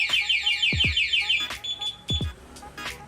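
A Yamaha Sniper 155 motorcycle's security alarm blares nearby, cycling through rapid warbling tones and sharp descending chirps in quick succession.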